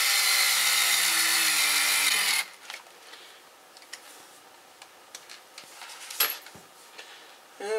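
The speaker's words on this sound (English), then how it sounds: "run them in with the drill most of the way." A power drill whines steadily for about two seconds driving screws into a TLR 8ight-E 3.0 RC car kit, then stops, followed by quiet ticks and small clicks of handling.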